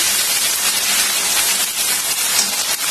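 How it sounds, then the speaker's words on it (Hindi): Masala sizzling in a covered pan while cooking a fish, cauliflower and pea gravy, giving a dense steady hiss and crackle, loud and close with no pauses. "देखिए चिनचिनाहट का आवाज कम हो गया है"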